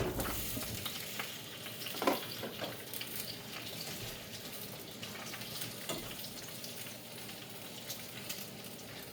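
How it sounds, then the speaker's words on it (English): Oil sizzles and crackles in a frying pan around kielbasa Polish sausage, a steady close hiss with scattered pops and occasional stirring clatter. "now the oil is sizzling"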